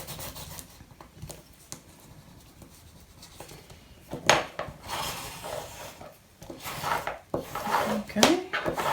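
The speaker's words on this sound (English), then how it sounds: "I'm probably going to need to give it a bit of a burnish to get mine to stick really well" Folded paper tabs on a satchel folio craft project are burnished to stick them down, heard as soft, scratchy rubbing strokes that come in two short bursts near the end after quiet handling.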